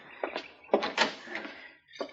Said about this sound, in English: Here, I'll get the door.